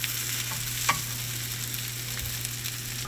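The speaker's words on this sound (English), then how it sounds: "So she browned them in the pan" Fish fillets browning in a hot pan, a continuous close frying hiss with a low hum beneath and an occasional faint clink, no voices.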